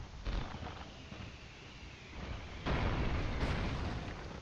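Video game explosion effect from Broforce, a fiery burst that rumbles on through the clip, with a second louder blast swelling in partway and holding, heard alone without talk.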